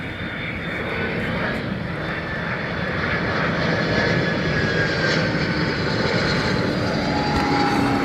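Airliner taking off at London Heathrow Airport, a loud, steady broadband engine roar that swells slightly and holds throughout, with a faint whine riding on top and no talk.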